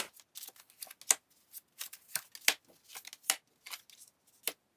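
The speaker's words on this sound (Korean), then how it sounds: "여러분을 위한 힌트 카드를 뽑아볼게요" Tarot cards are shuffled and drawn in a quiet room, a run of crisp, close papery riffles and slaps in irregular bursts, with no talking.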